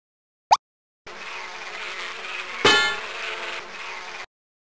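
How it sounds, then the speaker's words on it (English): Honeybees buzz around a farm beehive in a video game. A short click comes first, then a steady, close insect drone runs for about three seconds with a brief louder swell near the middle. "The bees on this farm live in a beehive the farmer made for them."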